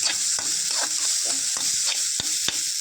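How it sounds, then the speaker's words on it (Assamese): Potatoes with a bay leaf fry in a pan for a bitter gourd curry with mustard. A steady close sizzle runs throughout, broken by occasional stirring scrapes, with no talk. "ভালদৰে ভাজি লৈছোঁ"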